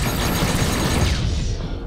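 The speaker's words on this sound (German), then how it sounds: "Hier explodiert gerade der Kahn unterm Arsch weg" A ship blowing apart in the space-combat game Rebel Galaxy Outlaw, a loud, dense rumbling blast with crackling debris that holds steady and then thins and fades away.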